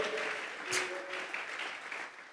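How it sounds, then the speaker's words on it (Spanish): Congregation in a church worship service clapping together as an offering of applause, a steady dense patter of many hands filling the room throughout. "Vamos a regalarle ofrenda de palmas al Dios de la gloria."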